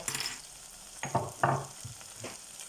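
Garlic and ginger sizzling in a hot pan for a kidney bean and potato curry, with a steady close crackle broken by several stirring scrapes and bursts of louder frying.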